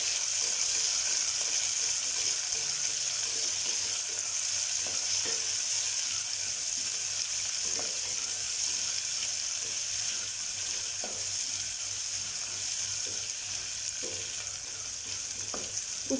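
Onions and green chillies sauté in hot oil for coconut milk pulao, a loud, even, continuous sizzle with a few soft scrapes of a spatula across the pan, close up and with no talking.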